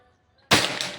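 A single sharp shot from a Pajero Gun Gen 6 toy gun during an accuracy test, a sudden loud crack after near silence, followed by a brief ringing decay.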